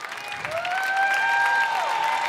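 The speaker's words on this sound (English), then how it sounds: "Crowd is on their feet, letting them hear it." Basketball arena crowd at a Big Ten women's game, Wisconsin at Minnesota, applauding and cheering on their feet, a steady loud wash of clapping with rising cheers and whistles.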